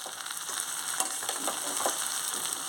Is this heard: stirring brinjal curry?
yes